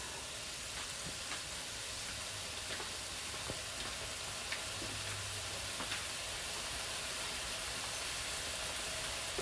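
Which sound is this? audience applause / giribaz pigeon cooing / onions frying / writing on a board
onions frying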